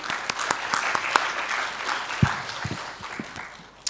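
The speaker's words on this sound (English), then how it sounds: "So big round of applause." Applause from a student transition panel audience, spread broadband clapping at moderate level that builds and holds for a few seconds, with a couple of sharper isolated claps near the end.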